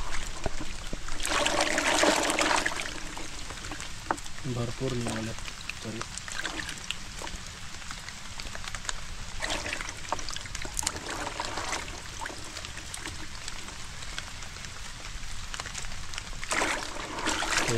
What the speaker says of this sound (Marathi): दादा धुतोय आता काजू